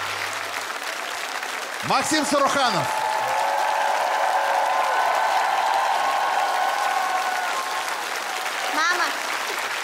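Audience applause at a television talent show final rolls on steadily throughout, a loud crowd of clapping, while a man announces a name over it near the start.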